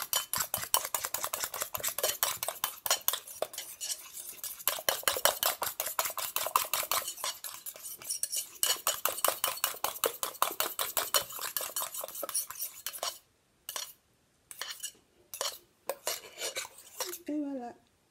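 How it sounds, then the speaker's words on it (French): Homemade face serum being stirred in a small container, a rapid steady run of close metallic clinks and scrapes against the sides that breaks into a few short separate taps at the end, with no talking. "Et je mélange encore."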